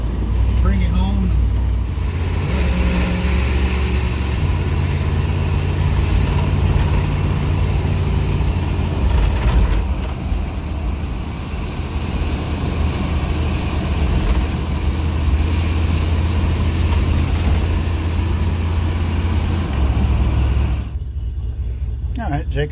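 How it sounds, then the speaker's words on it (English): Dodge Ramcharger with a 727 Torqueflite transmission and new Transgo shift kit, heard from inside while driving: steady loud engine drone with gear changes, low rumble varying over time, then cutting off near the end. "Jacob driving with the new shift kit in the transmission after adding the fluid to it"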